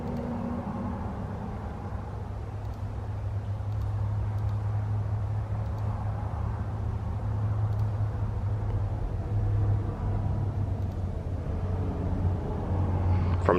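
A twin-turbo LS-swapped SN95 Mustang drag car engine makes a steady, low droning rumble during a pull, building slightly in loudness, with no voices.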